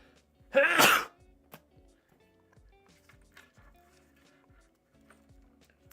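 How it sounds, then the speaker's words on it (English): A single loud, sharp sneeze bursts out near the start, followed by quiet background noise with faint clicks and light movement. "That was a powerful sneeze."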